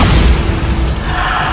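A Bombarda blasting spell goes off in Hogwarts Legacy as a loud, close, booming explosion, with a thick rumble that fills the whole moment.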